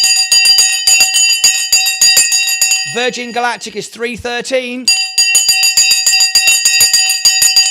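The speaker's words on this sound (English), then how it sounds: "let's go over now to ringing the bell" A stock market bell rings in rapid, continuous metallic peals, loud and bright, broken midway by a short burst of talk before the ringing resumes.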